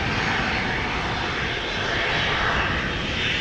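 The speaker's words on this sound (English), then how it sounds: "This is number 190, KLM flight 1711 to Luxembourg." A KLM Embraer 190, registration PH-EZN, departs Amsterdam Schiphol for Luxembourg with a loud, steady jet-engine roar held close and unbroken throughout, with no voices.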